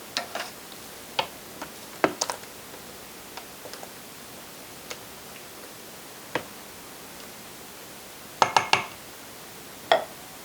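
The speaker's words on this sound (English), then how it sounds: "I'll give everything a nice stir" A spoon clinks sparsely against an Instant Pot insert while butternut squash, sausage and wild rice soup is stirred after the lid comes off, with light irregular taps and a brief cluster of clatter near the end.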